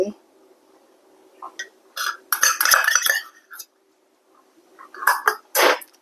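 Pork marinade gets stirred in a bowl, with bursts of spoon clinks and scraping against the dish separated by short pauses, close and fairly loud.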